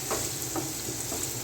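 Carrot pieces sizzling and frying in a pan for Singaporean rice, a steady hiss with a few soft stirring scrapes, close and continuous with no talking.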